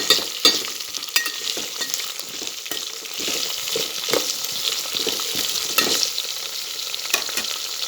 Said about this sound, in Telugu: ఈ వెజిటేబుల్స్ అనేవి మొత్తం ఇలా ఆయిల్లో ఉడికితేనే టేస్ట్ బాగుంటుంది.